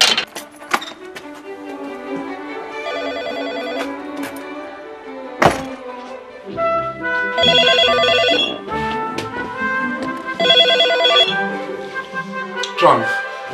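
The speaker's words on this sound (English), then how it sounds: "Professor Nick Humphrey gets a phone call from a colleague." An incoming call rings on a desk telephone in an office for a professor, bursts of bright ringing repeating over background music and room sounds.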